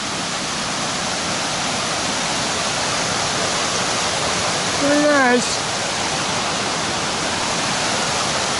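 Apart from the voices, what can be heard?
waterfall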